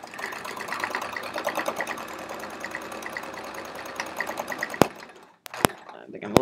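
Sewing machine running in fast bursts during free motion echo swirl quilting on a chevron quilt, a busy rhythmic whir close by, ending with a few sharp clicks as the stitching stops.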